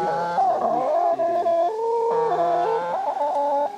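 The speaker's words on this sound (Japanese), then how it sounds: "ニワトリ。" A chicken on a rural village drive clucks and warbles continuously in rising and falling tonal calls, near and clear for a few seconds, with no talking.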